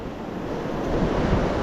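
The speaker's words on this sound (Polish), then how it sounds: "chyba że szum fal zagłusza" Ocean surf breaking on a shore rushes as a steady broadband wash, buffeted by wind noise on the microphone, swelling slightly louder toward the end of the brief stretch.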